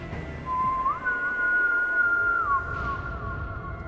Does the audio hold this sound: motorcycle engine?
no